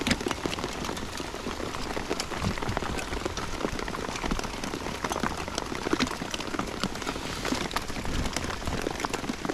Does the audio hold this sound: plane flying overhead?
no